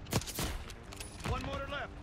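Gunfire from the Black Ops 6 video game campaign comes as a few sharp, punchy shots in quick succession, followed by a short burst with rattling echoes mixed into the game sound.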